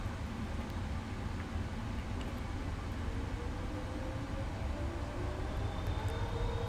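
Jet engines of a Boeing 777F freighter in a flight simulator spooling toward takeoff thrust, a steady broad roar with a faint rising whine, even and sustained throughout.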